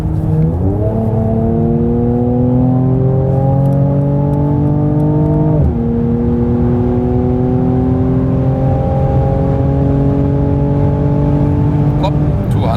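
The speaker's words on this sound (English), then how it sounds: "it's an AMG, so let's floor it out." A Mercedes C43 AMG accelerating at full throttle, engine pitch climbing steadily through a gear, dropping at a shift and climbing again, a loud continuous in-cabin drone with a faint whine.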